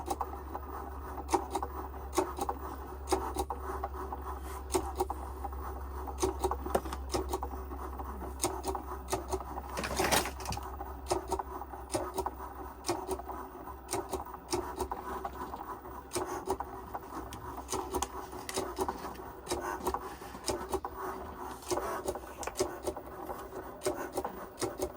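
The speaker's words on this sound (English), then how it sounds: "Does anybody else love just sitting and watching the machine draw?" A craft machine draws text onto a card, giving a long run of quiet, rhythmic scratchy pen strokes and small mechanical ticks with a low steady motor hum, heard alone throughout.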